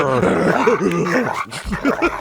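A man barks and growls in a rough imitation of angry pit bulls, several quick loud yaps in a row, close to the mic.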